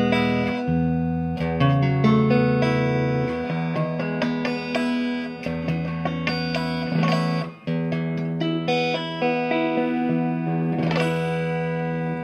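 A sustained, effects-laden electric guitar tone through a Port City amplifier rings out with layered chords and ringing notes, played alone and moderately loud throughout.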